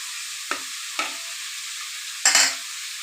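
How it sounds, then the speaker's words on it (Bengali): Papad frying in hot oil in a wok, a thin steady high hiss with three brief bursts of crackling, the last one louder and longer. "এইদিকে কড়াইতে তেল আছে আগের থেকে আমি পাপড় কটা ভাজা নেই"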